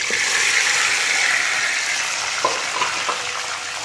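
Steady, loud sizzle and crackle of prawns frying in hot oil in a kadhai, close up, with a few sharp clicks and scrapes of stirring near the end.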